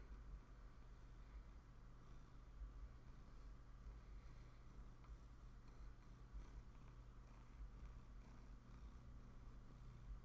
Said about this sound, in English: Got some gigantic purrs coming out of this fella.